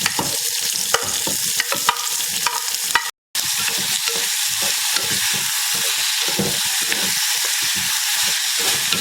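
Onion, tomato and plantain fry in a mud pot with a steady sizzle and hiss that runs on, a short break partway through, and no talk over it.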